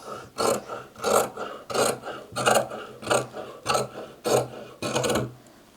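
Fabric scissors trim a sewn seam down to half its width, making eight evenly spaced, close crunchy snips in a steady rhythm with brief pauses between cuts.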